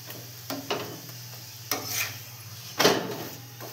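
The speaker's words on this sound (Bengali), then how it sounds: "এমনি করে একটু কড়া কড়া ভেজে নেবে, কারণ ভিতরে আলুর পুর দেওয়া আছে তো" A potato-stuffed paratha fries in a pan with a soft, steady sizzle under a low hum. A few sharp scrapes and clinks of a utensil against the pan come close by, and no one speaks.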